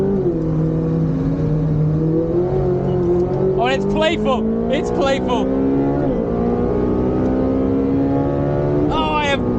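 Car engine revving hard while shifting down through the gearbox, with a loud, continuous drone whose pitch climbs and drops sharply at each downshift; a voice speaks excitedly over it.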